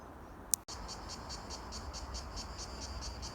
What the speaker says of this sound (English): Here again you might be able to hear the grasshoppers or cicadas.